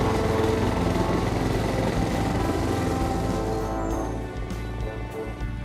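A Honda HRX 476 walk-behind lawn mower runs steadily up close, its small engine giving a loud, continuous drone that eases off slightly toward the end, with no talking.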